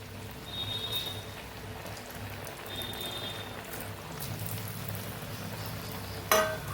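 Potato fries deep-fried in hot oil, a faint, continuous bubbling crackle with a brief clatter near the end, heard up close with no talk.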